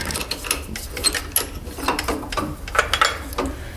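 A 3/8 inch drill bit bores through a pen blank, giving a steady, fairly quiet grinding and ratcheting whir with small rhythmic pulses and no talking.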